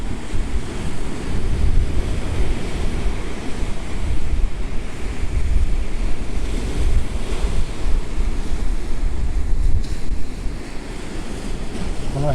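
Surf rolls continuously onto the shore below the Kakuda Cape lighthouse under a cloudy sky, a dense steady wash of breaking waves mixed with gusty wind buffeting the microphone.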